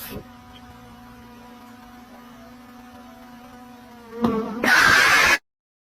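A little bee buzzes with a steady, thin, faint hum over several seconds, then a louder, harsher burst of noise comes up close before everything cuts to silence.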